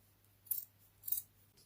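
Scissors cutting cloth fabric for a no-sew gnome craft, two crisp snips about half a second apart, close and sharp against a quiet background hum, with no talking.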